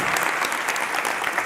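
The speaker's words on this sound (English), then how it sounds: "Can we give Stephen Alvaro a round of applause?" Dense applause from a seated audience at a startup CEO's talk, a steady close wash of clapping filling the whole moment without a break.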